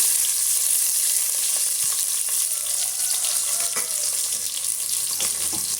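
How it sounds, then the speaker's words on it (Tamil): Chopped onions fry in hot oil for a country chicken curry, producing a loud, close, unbroken hiss and crackle throughout. "இப்போ வெங்காயம் நல்லா வதங்கி வரட்டுங்க"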